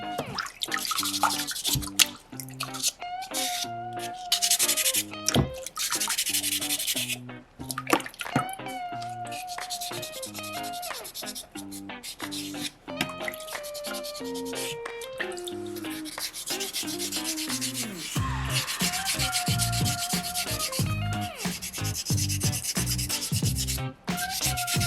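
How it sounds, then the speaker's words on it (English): Folded sandpaper rubbing against a small soapstone eagle carving, repeated close scratchy strokes in uneven bursts with brief pauses, no voices. "Manipulate that sandpaper any way you need to so that it can conform to what you need from it."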